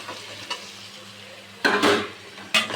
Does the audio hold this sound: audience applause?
no